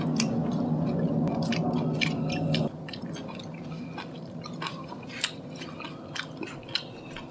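Close, wet chewing of kimchi, bean sprouts and pork belly with crunchy bites and squishy smacks, denser at first and then quieter with scattered crisp crunches.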